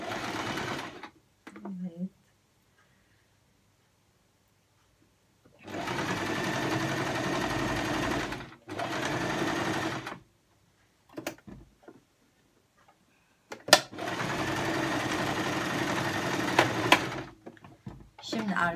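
Sewing machine stitching a fur hat: two long runs of fast, steady mechanical clatter separated by pauses and short bursts, with a person speaking between the runs.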